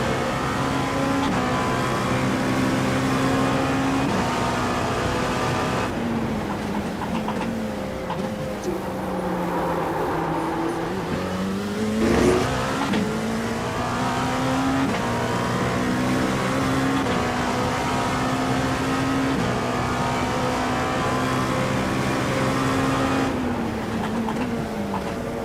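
A race car engine drones steadily at Sebring during an iRacing 12-hour endurance race, with one brief dip and climb in revs partway through and other traffic blending into the constant roar.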